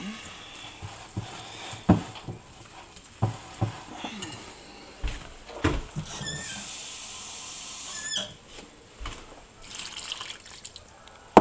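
Water is poured and stirred into kimchi chili paste, with a brief steady pour among soft stirring and scraping sounds, close and moderately quiet.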